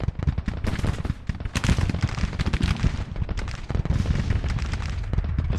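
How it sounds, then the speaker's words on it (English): Cannon fire from Civil War artillery in the Grand Tactician strategy game, 3-inch guns and 12-pounder Blakely rifles among them, rapid dense overlapping booms and cracks, loud and continuous like a sustained bombardment. "The 3-inchers are firing."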